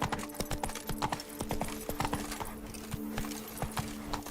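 The horse Roach's hooves clip-clop in The Witcher 3, a brisk steady run of sharp hoofbeats at close range over a faint background hum.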